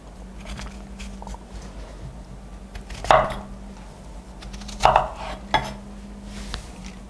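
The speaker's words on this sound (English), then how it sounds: "With mandarin oranges, it's kind of hard to section because they're small, so I would do the cross cut like this." A knife cross-cuts small mandarin orange sections on a board, giving a few soft, separate chops and taps with a faint hum beneath.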